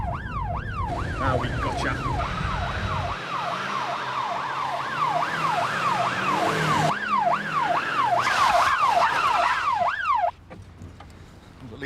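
A police car siren wails in a fast repeating up-and-down sweep during a pursuit, loud and close over road and engine noise, with a brief spoken line partway through before the siren cuts off near the end.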